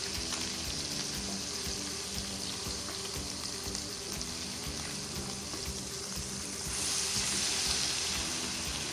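Salmon fillets fry steadily in a pan for salad, a continuous close sizzle and crackle with light scraping, swelling louder and hissier toward the end.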